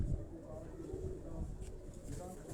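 Pigeons in a loft in Quetta coo softly in low, rolling calls, fairly faint and close, with a few brief higher chirps and some background rustle.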